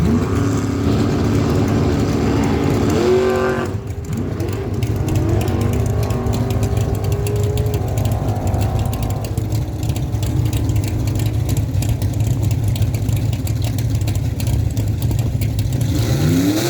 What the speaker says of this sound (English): Charlton out of Willow Grove, New Brunswick, 73 Mercury Comet GT. A 441 small block Ford stroker power